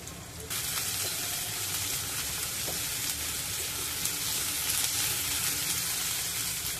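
Onion and capsicum sizzle and fry steadily in a hot pan, a dense continuous crackling hiss that stays loud throughout with no talk.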